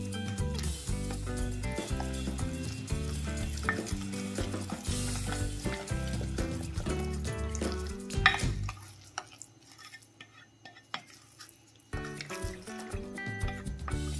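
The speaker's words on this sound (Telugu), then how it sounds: "ఇప్పుడు ఒక చిటికెడు సాల్ట్ దీంతో కలుపుతూ ఒకే వెర్షన్లో కలుపుతూ ఉండాలి." Eggless vanilla cake batter is stirred briskly in a bowl, giving a steady wet, sloshing scrape with a slight sizzle-like texture for several seconds, then it pauses, and quieter mixing resumes near the end, with no talking.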